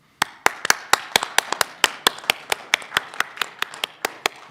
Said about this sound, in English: I encourage everyone to give you a standing ovation.